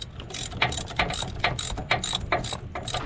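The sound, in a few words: ratchet tightening a bolt on a rack and pinion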